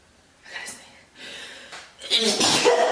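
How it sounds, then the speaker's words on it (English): A single sneeze close to the microphone: a sharp intake of breath followed by a loud, breathy burst, with no speech. "I gotta sneeze."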